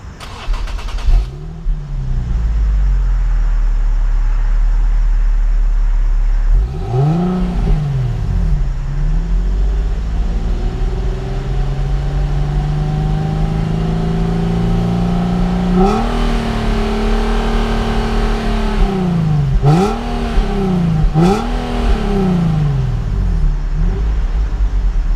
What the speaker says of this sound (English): I've always thought the VQ engine that is in this car has a great exhaust note.